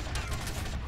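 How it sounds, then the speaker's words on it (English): Gunfire from the video game Grand Theft Auto Vice City, a short burst of several close, loud shots over a dense rumbling game soundscape. "Who the fuck is shooting at me, bro?"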